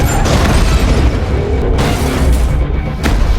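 Sniper rifle shots ring out in an action film scene about a bank robbery and ambulance hostage standoff, heavy booming blasts over a dense, loud mix of rumble and noise with sharp bursts near the middle and end.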